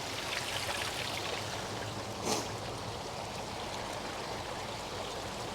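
Steady rushing of water pumped into a gold-prospecting sluice, pouring and flowing, a continuous broadband wash with a brief splash-like surge midway, no voices.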